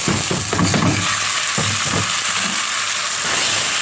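Rice with vermicelli stirred in a hot pan, giving a continuous sizzle and frying hiss with scraping stir strokes at irregular intervals, close and fairly loud.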